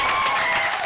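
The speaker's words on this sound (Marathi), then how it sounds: "वा वा वा, जोरदार टाळ्या." Audience at an Adivasi Dhangar literary gathering breaks into a short burst of loud, dense clapping for a recited poem.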